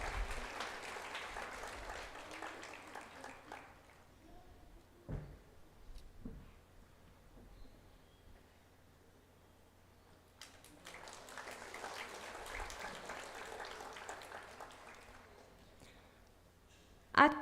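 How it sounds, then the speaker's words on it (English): Audience at a graduation and awards ceremony breaks into applause twice, a few seconds of clapping each time, separated by quieter room sound and a few thumps. "Let's give Nisha a round of applause."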